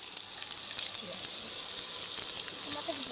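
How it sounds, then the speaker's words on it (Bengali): Chopped onions sizzle in hot pungent mustard oil for a cabbage dish, giving a steady, moderately soft crackle with faint stirring noises. "এদিকে সরিষার তেলের ঝাঁজ লাগছে আর এদিকে পেঁয়াজগুলো দিতেও ছাড়ছে না"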